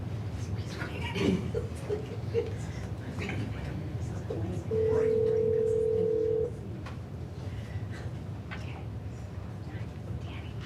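A phone caller is connected by speakerphone into a school board meeting's public comment period, with a steady tone lasting about two seconds amid low room noise and brief murmurs.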